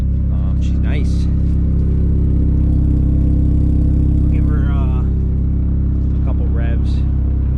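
A Volkswagen Jetta GLI engine idles while warming up, a steady low rumble held throughout, with a person talking intermittently over it.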